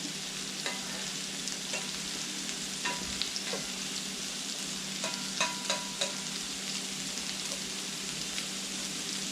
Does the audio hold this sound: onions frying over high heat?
yes